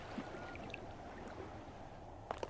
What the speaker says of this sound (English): you can probably hear the seas coming from your left now